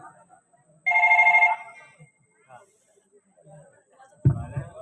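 A telephone rings once in a short, bright electronic trill, then quiet follows before a brief burst of someone speaking.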